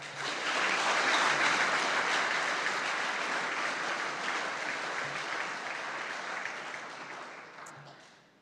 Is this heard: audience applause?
yes